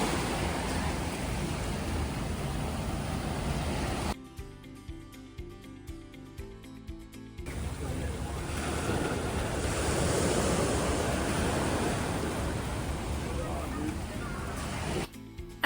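Waves wash onto an Italian beach, a loud, broad rush of surf mixed with wind buffeting the microphone, briefly cut to a quieter section in the middle before the surf swells again.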